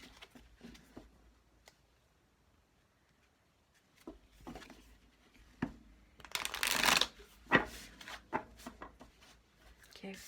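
Tarot cards are shuffled and handled at close range, soft sparse riffles and taps at first, then a dense burst of rapid shuffling followed by scattered card snaps and slides.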